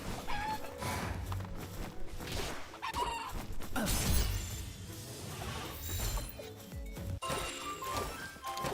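Chickens cluck in a video game, scattered short clucks among crashing and clattering game sounds, fairly close and busy throughout.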